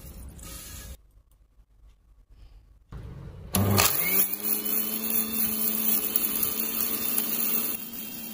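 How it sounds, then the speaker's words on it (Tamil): A mixer grinder jar starts up loudly after a brief pause and runs with a steady high-pitched whirring roar while grinding dried ginger into powder, with no talking. "இது மிக்ஸி ஜாரில் போட்டு நல்லா பொடியாக அரைச்சிக்கலாங்க"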